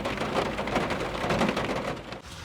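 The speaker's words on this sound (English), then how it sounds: "The rain really just started picking up." Steady rain patters on the roof of a camper van at night in Bar Harbor, Maine, a close, even hiss of drops with no voices.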